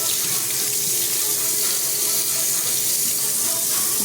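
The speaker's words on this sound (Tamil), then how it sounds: "தண்ணி ஊற்றலாம்." Steady rushing water, like a continuous stream poured into a pot for vegetable biryani, runs without pause and fairly loud, with no talking over it.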